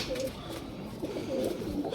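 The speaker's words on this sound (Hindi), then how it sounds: "सबसे पहले आपको कबूतर दिखाता हूँ।" Soft, low cooing of pigeons on a rooftop, a steady murmur of repeated coos carried over a faint background hum, no voices.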